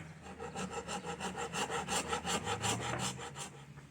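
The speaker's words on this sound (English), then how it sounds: "It's like real woodworking with these chisels." Chisels cut into the wooden body of a guitar with rhythmic, close rasping strokes, about a dozen evenly spaced pushes, loud and alone.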